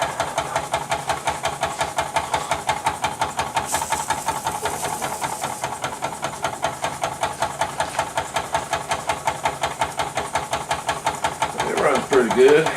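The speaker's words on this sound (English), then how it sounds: "Got a couple steam leaks in it." Steam hisses from leaks on a running Jean Comby steam engine, a steady broadband hiss layered over the engine's fast, regular chuffing beat that continues throughout at an even level.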